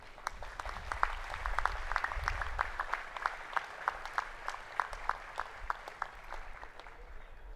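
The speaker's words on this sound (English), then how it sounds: "A round of applause is in order." Applause from a university convocation audience, a fairly faint, sparse patter of individual claps carrying through a large hall, steady for the whole stretch with no voices over it.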